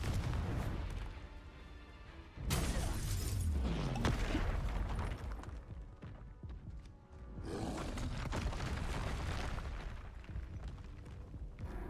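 Confringo blasting-curse explosions in the Hogwarts Legacy video game: two heavy booms with a long rolling roar, loud and close, and no voices.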